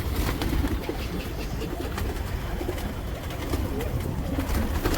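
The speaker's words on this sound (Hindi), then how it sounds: "बहुत बढ़िया साइज़ के कबूतर है" Patiala pigeons coo in a dense, continuous murmur close by, with flapping and rustling mixed in throughout.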